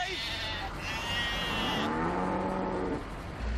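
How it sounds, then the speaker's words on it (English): Livestock, a cow and six goats, call out from the back of an old delivery truck in Nairobi, with drawn-out moos and bleats over constant engine and road rumble. "I'm delivering a cow and 6 goats."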